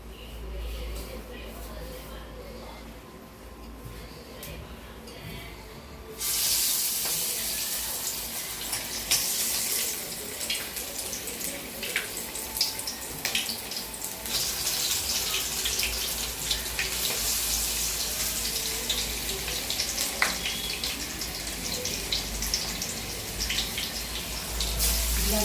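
Banana flower vadai drop into hot oil in a kadai, and the quiet background gives way to a sudden, dense crackling sizzle that keeps bubbling and popping loudly to the end.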